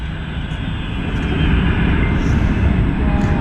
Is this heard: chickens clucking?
no